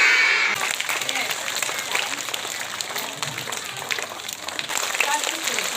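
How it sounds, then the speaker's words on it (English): Students and teachers at a school assembly give a presenting class a round of applause, steady clapping from a sizeable audience in a hall, fairly loud and continuous. "Give them a big round of applause."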